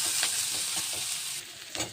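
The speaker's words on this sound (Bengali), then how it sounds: "একটু লাল লাল করে ভেজে নেবো পেঁয়াজটাকে" Onion and slit green chilli fry in oil in a pan for a fish curry, producing a steady, close sizzling hiss with occasional stirring scrapes and no talk.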